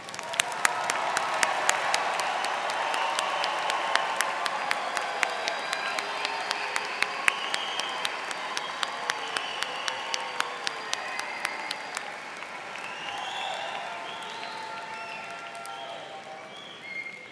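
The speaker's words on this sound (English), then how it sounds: "How about a round of applause for all of our graduates?" Applause for graduates fills a large commencement hall, a dense sustained wash of clapping with sharp individual claps standing out, fading toward the end under some voices.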